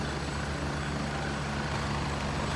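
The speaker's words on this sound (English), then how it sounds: "That's our chopper." A helicopter in the military shooter game Gray Zone Warfare drones with a continuous loud rotor and engine roar, steady and close, with no talk.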